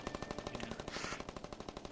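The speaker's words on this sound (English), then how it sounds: "Oh, hey, Tracer's guns." Tracer's rapid-fire pistols from a video game, a fast even stream of short crisp shots, roughly a dozen per second, fairly quiet and close, with no voices.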